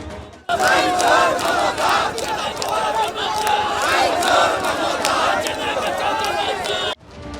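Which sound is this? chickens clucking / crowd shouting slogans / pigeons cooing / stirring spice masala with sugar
crowd shouting slogans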